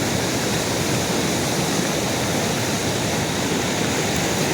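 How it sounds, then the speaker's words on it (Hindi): Floodwaters of a river swollen by record rain in Sirmour, Himachal, roar as a loud, steady broadband rush that never lets up, close by with no voices over it. "और देखो नदी कैसे लगी यहाँ तक, भयानक मंजर जी"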